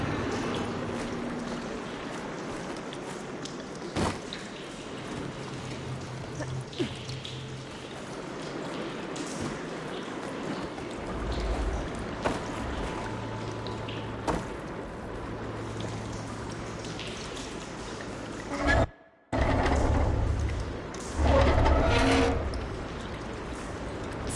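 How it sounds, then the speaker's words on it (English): Water running and trickling inside a room in the video game Horizon, a steady soft rushing hiss with light dripping textures, interrupted by a brief gap and a few louder thumps near the end. "Aloy, I can hear water in the room again."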